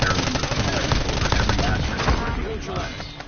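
A submachine gun fires fast in Call of Duty, a continuous rattle of closely packed shots running throughout at close range, with a voice talking over it.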